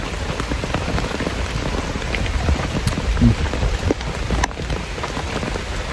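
Rain falls steadily on a surface around a garden plot, with a dense, even patter of drops and a few louder hits close by.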